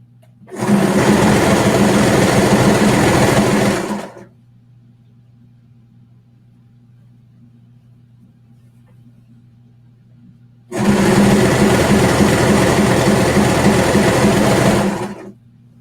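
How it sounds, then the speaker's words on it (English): Sewing machine top stitching a jacket, running in two steady bursts of about four seconds each with a quiet pause between, loud and close with a low hum underneath. "Then we have to top stitch it."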